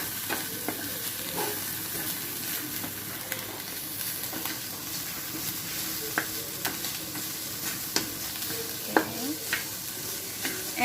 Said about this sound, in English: we're looking at the fry consistency. You can see right now it is frying.